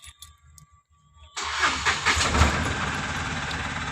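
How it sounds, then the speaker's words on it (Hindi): A Mahindra Supro BS6 engine cranks and starts after a quiet moment, then settles into a steady, close idle. "और गाड़ी को स्टार्ट करते हैं।"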